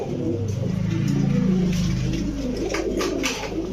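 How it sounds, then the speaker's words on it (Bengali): Saharanpuri pigeons cooing in a continuous low, throaty murmur close by, with a faint rumble of background noise and no talking. "সবগুলো ক্রিম চোখের কবুতর মাত্র চব্বিশশো টাকা"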